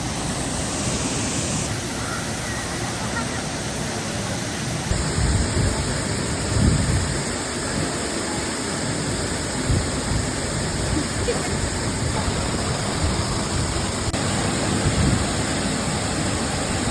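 Thoomanam waterfalls near Wadakkanchery, Thrissur, roar as a steady, dense rush of falling water close by, continuous throughout with slight surges and no clear voices.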